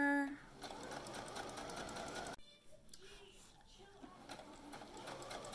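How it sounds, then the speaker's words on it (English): A home sewing machine runs steadily, stitching the sides of a fabric pocket, its fast mechanical whir close and continuous with a brief pause midway, while a voice talks over it. "Continue sewing the sides of the pocket."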